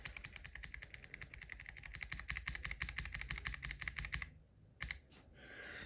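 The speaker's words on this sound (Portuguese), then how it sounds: "Aqui o clique ele é um pouco mais forte, você tem que realmente pressionar, olha." Rapid keypresses on a Feker IK75 Ultra mechanical keyboard fitted with pink Gateron switches, a steady close run of crisp clicks that stops abruptly, followed by a few scattered isolated taps.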